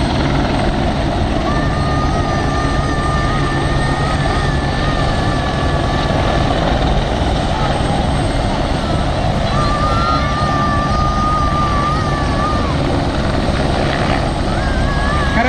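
A loud helicopter drones continuously nearby at a helicopter air show, rotor thrum and engine whine filling the scene, with a faint high whistle rising and falling.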